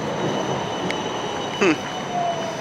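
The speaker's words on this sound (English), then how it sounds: "Tram's a little louder than usual." A city tram passing close by with a steady rolling rumble, a faint whine and brief metallic wheel squeals, noticeably loud.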